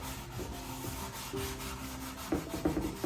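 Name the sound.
scrubbing rust off a pan with a Scotch-Brite pad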